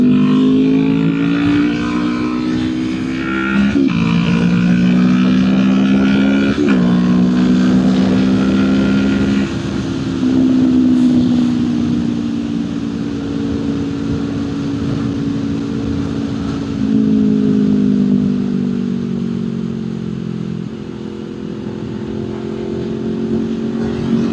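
A tuned small motorcycle riding in traffic, its engine droning steadily close by with harmonic tones rising and falling through gear changes and throttle shifts, under continuous wind and road noise.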